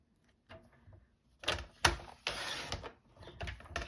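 A paper cutter trims a sheet of patterned craft paper, giving several short scraping slides and clicks close by, with no talking.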